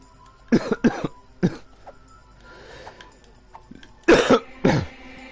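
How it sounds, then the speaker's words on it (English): Several sharp coughs in two clusters, a quick burst of three near the start and another pair later, close and loud against a quiet room. "Sorry about the coughing."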